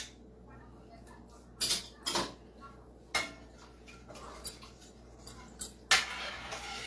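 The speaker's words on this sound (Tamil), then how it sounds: "ஸோ நம்ம இதை வந்து இன்னும் நல்லா மிக்ஸ் பண்ணலாம்." Thickening white sauce for pasta is stirred in a pan, a utensil scraping and clinking against the metal in irregular sharp taps and scrapes, fairly faint and close, over a low background hum.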